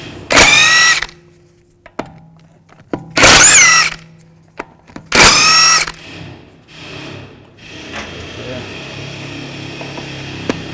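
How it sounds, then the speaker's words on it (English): Three loud bursts of a powered socket tool, a few seconds apart, loosening the 17mm lug bolts on a 2006-2010 Volkswagen Jetta wheel, with clicks and handling noise between them and in the trailing seconds. "use a 17mm socket to take off the lug nuts"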